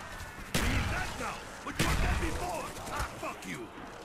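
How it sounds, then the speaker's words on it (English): A turret fires at zombies in Call of Duty Zombies on the Kino Der Toten map, two heavy bursts of shots with scattered zombie growls and a voice talking in between. "See, that turret is a massive help."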